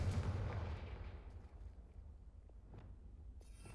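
A Confringo blast spell in a Harry Potter video game goes off as one loud booming burst at the start, its rumble and crackle slowly fading over several seconds.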